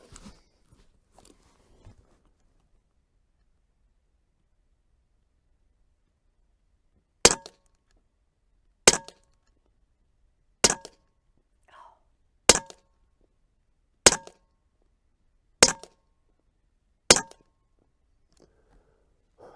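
Seven sharp, loud shots from a Huben .25 caliber airgun, evenly spaced about one and a half seconds apart after a long quiet stretch, each a crisp metallic crack with no talking between them.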